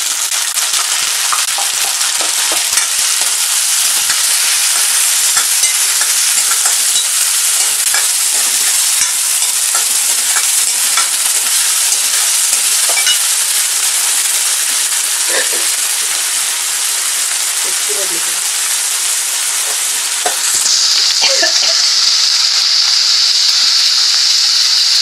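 Tomatoes frying in a pan for Tirunelveli-style paruppu urundai kulambu, a loud continuous sizzle with occasional stirring scrapes, close up and steady throughout with no talking.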